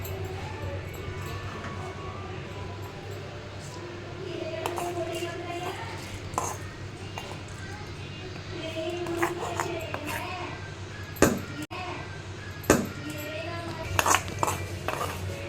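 Cashews stirred into carrot halwa in a pan, with soft scraping and scattered metallic clinks of a spoon against the pan, a few sharper knocks near the end, under a steady low hum and quiet talk.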